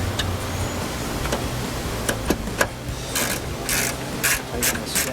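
Ratcheting wrench tightening a bolt into original threads while fitting a trunk to a Jeep Wrangler JL, giving scattered clicks and short bursts of rasping over steady low background noise.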